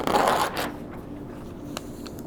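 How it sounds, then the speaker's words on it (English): A sheet of paper is torn off a pad, one short ripping burst close by, followed by faint rustling handling. "Let me tear this one off."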